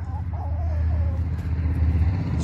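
Backyard chickens make a few faint, brief clucks early on, nearly buried under a steady low engine-like rumble that continues throughout.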